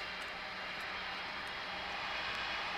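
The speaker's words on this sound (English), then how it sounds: "Get a bit of a close up on this China Eastern plane." A China Eastern airliner in the Tower Simulator 3 game at Velana airport in the Maldives gives off a steady, broadband engine roar that holds at an even level throughout, with no talk over it.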